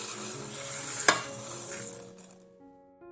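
Coriander seeds pour into an air fryer basket while making garam masala, with a dense rattling hiss and one sharp clink midway, then the rattle fades and a faint electronic beep follows near the end.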